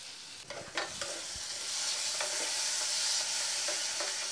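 A pan of chicken chorchori masala fries with a bright, continuous hiss, a few spatula scrapes and taps near the start, then a steady sizzle alone.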